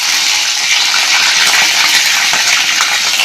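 Mustard seeds spatter and crackle in hot oil as the tempering for a Kerala-style mango pickle begins, a dense, steady, close sizzle with sharp little pops throughout and no voices.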